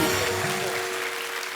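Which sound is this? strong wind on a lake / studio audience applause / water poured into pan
studio audience applause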